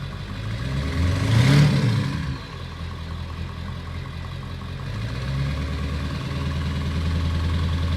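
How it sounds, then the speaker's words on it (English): A Ford F350 pickup with a 7.3L engine and dual tip exhaust idles steadily with a low rumble, briefly swelling louder near the start before settling back to an even hum. "We have the dual tip exhaust on the rear."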